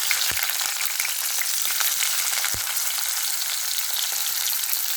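Onions fry in oil left from browning potatoes for aloo matar, a continuous bright sizzle heard up close, with two dull knocks of a utensil against the pan and no speech.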